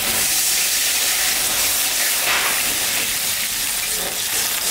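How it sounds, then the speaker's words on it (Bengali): Water is poured into a hot pan of fish curry, raising a loud, continuous sizzling hiss that holds steady with no voices. "এখন আমি জল দিয়ে দেবো।"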